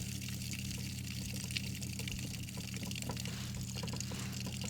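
Water drains steadily from an RV's plumbing lines as a continuous rushing, gushing flow over a low mechanical hum, with no talking.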